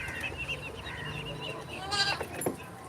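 A goat bleats a couple of times close by, fairly faint over low background noise around a small home farm with poultry.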